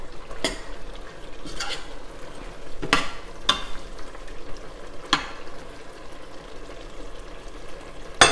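Vegetables and smoked fish with a spice mix fry in a pan, a steady low sizzle broken by several sharp scraping stirs, close by, with no talking.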